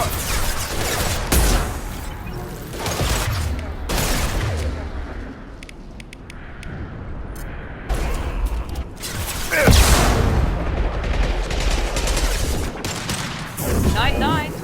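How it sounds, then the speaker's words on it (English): Concussive shots fire in Mass Effect 2, heavy booming blasts mixed with bursts of gunfire and mechanical clatter in loud combat, with a voice speaking over the action. "Firing concussive shots."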